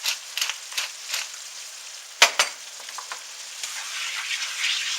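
Ground meat chili base seasoned with salt and pepper is stirred in a pot, with a constant bright sizzle and several loud spoon scrapes and knocks against the side.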